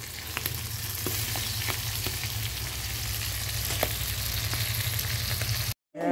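Food frying in a pan, a steady loud sizzle with scattered crackles and pops running continuously before cutting off abruptly near the end.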